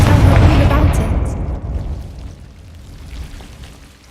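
A Confringo spell blast in Hogwarts Legacy goes off as a loud, booming burst that fades out over a few seconds, with a voice audible underneath.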